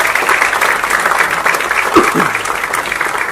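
Audience applause at a film trailer launch event with Sachin Tendulkar and Muttiah Muralitharan, a steady wash of clapping from a crowd, fairly loud and continuous throughout with a few voices mixed in.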